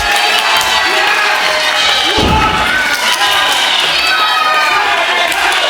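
A live wrestling crowd in Dagenham cheers and shouts loudly throughout, a dense sustained roar with a heavy thud of a body hitting the mat partway through.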